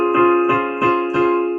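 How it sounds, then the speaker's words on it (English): A major 7th chord sounds as sustained harmonic tones with four soft rhythmic re-articulations over about a second and a half, clear and close, with no talking. "so a major 7th chord, which sounds like this normally"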